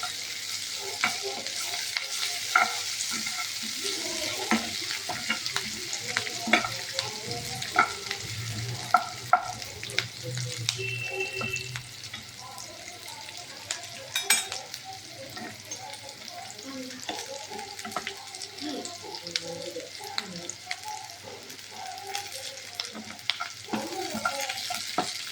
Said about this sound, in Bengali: আমাদের পেঁয়াজটা মোটামুটি ভাজা হয়ে এসছে।